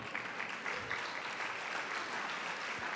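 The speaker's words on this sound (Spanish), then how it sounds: "ustedes están aplaudiendo" A church congregation claps after a Spanish-language sermon about the resurrection, a soft, even roar of distant applause that holds steady without breaks.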